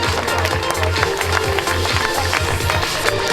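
Crowd applause at a triathlon awards ceremony for a podium winner, a steady outdoor patter of clapping under a low rhythmic thump of music.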